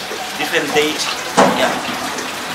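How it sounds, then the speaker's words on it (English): Water sloshes and splashes as wool is washed by hand at a weaving factory in Swakopmund, Namibia, with short bursts of splashing heard beneath people talking. "this is the way the wool is being washed"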